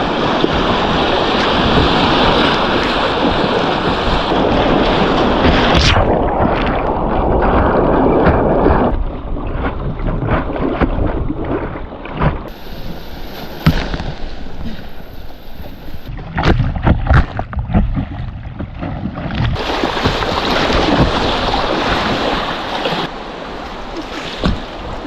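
Kayaks paddled along a creek in Arkansas, with steady rushing water and rough wind buffeting the microphone, broken by splashes and knocks from the boats and paddles, loud and close throughout, with no talking.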